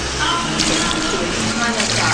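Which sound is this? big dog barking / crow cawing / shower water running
shower water running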